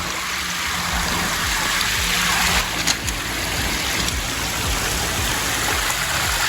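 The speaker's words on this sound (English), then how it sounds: "Nice larger rushing water on this side for the sound effect." Water rushes steadily down a natural front-yard waterfall stream set among azaleas, boxwoods and hollies. The splashing and gurgling sound close and full, flowing on without a break and with no voices.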